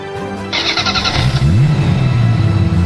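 A cartoon motorcycle engine in an Ultraman animation starts up and revs, rising in pitch before settling into a steady close, loud running drone.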